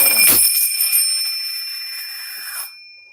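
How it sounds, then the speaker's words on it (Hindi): A small bell is struck once during a spiritual discourse, giving a bright metallic ding that rings on with a clear, slowly fading tone for over two seconds before stopping. "घंटी भी बज गई"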